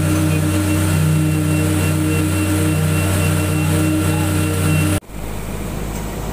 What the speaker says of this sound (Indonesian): Mobil ketiga ini udah mulai jalan.